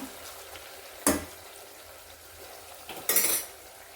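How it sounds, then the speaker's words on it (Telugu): Mutton pieces for a pickle frying on high heat in a pan, a steady crackling sizzle with two loud metallic scrapes as a spoon stirs against the pan, close up and without voices. "ఈ విధంగా ఒక రెండు నిమిషాలు మంచిగా హైలోనే పెట్టుకుని ఫ్రై చేసుకోవాలి మనం"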